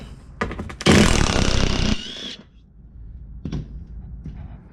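Power tool removing the inner fender bolts on a 1994 Ford Ranger, one loud burst of about a second, then a few quieter brief bursts close by.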